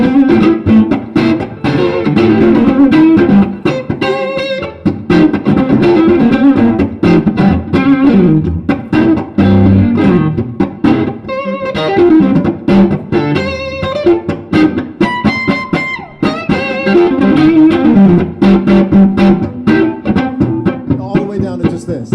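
Chunky, heavily distorted electric guitar chords played through a PRS J-MOD 100 amp in a bouncy, steady rhythm, loud and continuous throughout.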